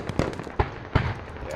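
Gunshots in the squad shooter game Squad: three sharp, loud reports spaced irregularly, with players talking over the gunfire.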